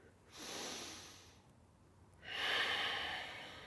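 Slow, audible breaths taken while holding a yoga strength pose on blocks: a long exhale, a short pause, then a louder, breathy inhale-exhale, close and alone with no talking.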